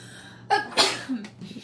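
A single sharp sneeze brought on by pepper during home cooking, loud and close, with a quick inhale before the burst and a brief fading tail after it.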